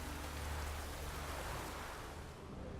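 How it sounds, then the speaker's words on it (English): Steady rain in The Witcher 3: Wild Hunt hisses as a dense, even wash of drops, loud and continuous throughout with no voices. "Looks like rain."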